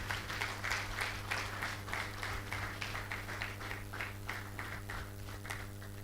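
An audience at a food security stakeholders' dialogue in Nigeria gives a round of applause, faint, scattered clapping over a steady hum of room noise.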